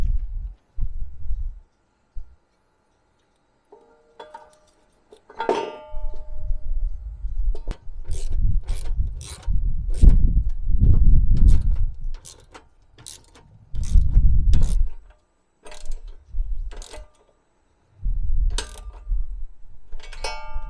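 Ratchet clicking in repeated bursts while tightening a battery bolt and nut under the hood of a Jeep Cherokee XJ, close and crisp, with short pauses between runs of clicks.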